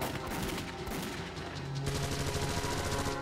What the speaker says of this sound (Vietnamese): Thằng Trung với người ta đã bắn nhau loạn xạ kìa.